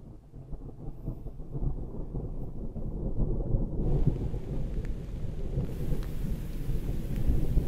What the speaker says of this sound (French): Notre premier orage.